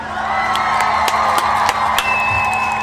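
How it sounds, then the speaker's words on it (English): A crowd at a Nia celebration cheers and whoops, with scattered claps rising through a loud, sustained wash of voices. "We want to give all the Nia babies a round of applause"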